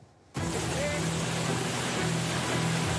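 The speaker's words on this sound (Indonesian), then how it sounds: "Banjir mengalir deras menerjang puluhan rumah di Dusun Ngendo" Floodwater from a breached dike on the Kelegung River rushing through houses in a Semarang village, a steady loud roaring wash that starts abruptly and continues throughout, with a low hum underneath.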